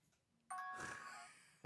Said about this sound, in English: I can't believe you just rang the doorbell.